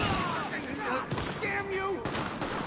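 Gunfire in the video game The Division, rapid bursts of shots crackling over game sound and voices, moderately loud within a busy mix.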